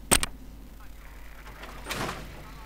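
A door opens in Fallout 3: a sharp metallic clank comes first, then about a second later a rushing sliding whoosh as it moves open, over a low steady game background.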